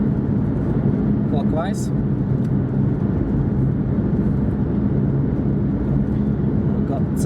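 A Scarborough bus, an MMC-bodied double-decker about a 200, working Service 7 on the Eastwood Circular, rumbles steadily nearby with a low engine drone throughout while people talk over it.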